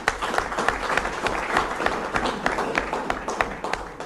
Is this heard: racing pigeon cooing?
no